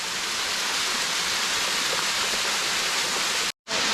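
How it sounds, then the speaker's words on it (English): A small waterfall spills into a pool in Tobago, its steady broadband rushing roar loud and continuous, with a brief dropout near the end. "here we are at a small but beautiful little waterfall and pool"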